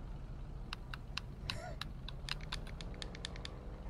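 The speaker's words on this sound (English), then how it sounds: "This is the sound of me inputting buttons on my Xbox One controller." Quick, irregular clicks of buttons pressed on an Xbox One controller, a dozen or so sharp taps close to the mic over a low steady hum, with a brief murmur of voice partway through.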